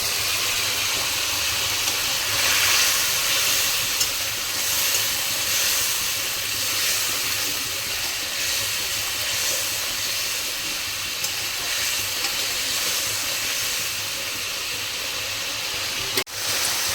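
Powdered turmeric, salt and spices cooking down in a little water in a pan for a Bengali mutton curry with potato and papaya, giving a steady, hissing simmer that runs unbroken and fairly loud throughout.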